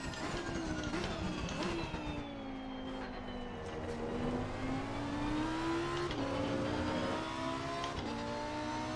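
Lamborghini Huracan EVO race car in Assetto Corsa Competizione at Hungary, its engine droning steadily on throttle with rising and falling pitch through gear changes, close and alone.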